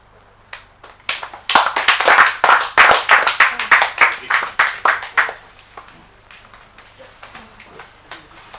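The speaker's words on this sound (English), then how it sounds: "with a round of applause, put your hands together once again" A group claps in a burst of applause that builds quickly, holds steady for a few seconds, then thins out to scattered claps.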